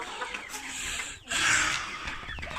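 Chickens waiting for their feed give soft, overlapping clucks and murmurs, moderately close, with a louder burst of clucking midway through.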